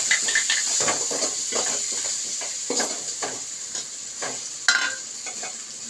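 Oil sizzles steadily in a pan while a spoon scrapes and stirs through thick ground masala for potato gravy in repeated strokes, close and fairly loud.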